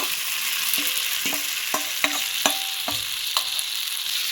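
Fried cauliflower and potato pieces being sautéed with spice masala in a pan, a continuous close sizzle with repeated knocks and scrapes of a spatula stirring at an uneven rhythm, no voices.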